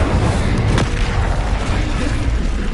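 In Hogwarts Legacy, an Incendio fire spell sounds as a loud, continuous roaring whoosh with a low rumble and one sharp pop near the start, dense and steady throughout.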